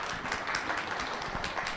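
Applause from an audience at a feminist public talk, a steady dense wash of many hands clapping throughout, fairly distant and even.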